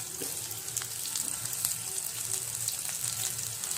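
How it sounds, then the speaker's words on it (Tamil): Sliced large onions fry in hot oil for a Bombay chutney, giving a steady, continuous sizzle with faint crackles throughout and no talking. "எண்ணெய் காஞ்சவொன்னே வெங்காயத்தை போடணும். நல்லா கொஞ்சம் வதங்கணும்."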